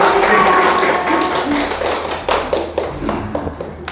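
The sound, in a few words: congregation clapping for birthday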